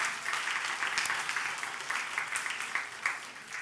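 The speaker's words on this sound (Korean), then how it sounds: "우리 안가온 학생을 위해서 환영의 박수 부탁드리겠습니다" A church youth congregation applauds to welcome a new student: continuous, even clapping from a crowd at moderate distance, with no voices over it.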